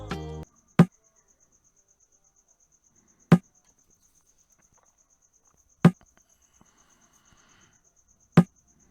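A second bongo drum sample for an Afrobeat beat in FL Studio sounds four sharp, short, deep-toned strikes, evenly spaced with long silences between them.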